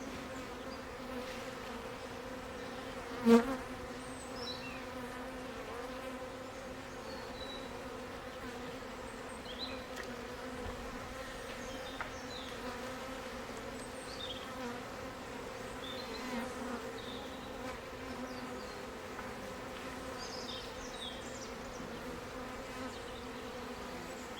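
Honeybees buzzing in a steady, dense hum close by, continuous throughout, with a single brief knock partway in. The bees are at hives in woodland, bringing in ivy nectar and pollen at the end of the season.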